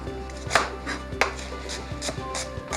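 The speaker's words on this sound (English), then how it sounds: "I'm going to take some of our rump steak and slice it really thinly." A sharp knife slices rump steak thinly on a cutting board for beef stroganoff, with a few distinct close knocks of the blade against the board over a low steady background hum.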